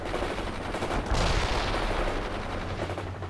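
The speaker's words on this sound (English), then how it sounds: "Fire at will." Rapid gunfire crackles in the real-time strategy game World in Conflict, a dense, continuous stream of mid-distance shots and bursts layered over rumbling battle noise, with no talk.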